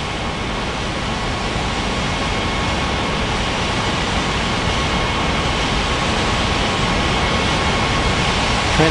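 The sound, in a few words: airliner jet engines in an air traffic control video game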